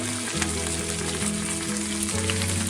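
Beans and carrots frying in a pan for vegetable oats upma, a continuous close sizzle with a droning tonal hum beneath it, no voices.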